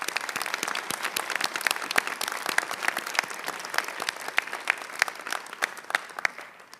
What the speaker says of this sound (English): Now please join me in a round of applause for these distinguished guests.